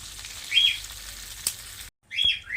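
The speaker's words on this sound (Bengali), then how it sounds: "আরো কিছুটা জল দিয়ে দিচ্ছি।" Water splashing into a hot pan (kadai) holding ground mustard paste and spices, a broad sizzling hiss in two bursts split by a brief silent gap, close and steady with no talking.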